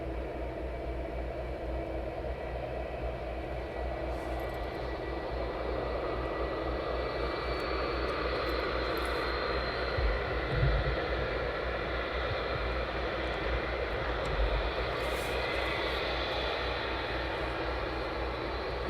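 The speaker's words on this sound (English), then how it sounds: "Taxiing towards us." An aircraft taxiing at East Midlands Airport, its engines producing a continuous heavy roar and rumble that holds steady and fairly loud for the whole stretch, with no voices.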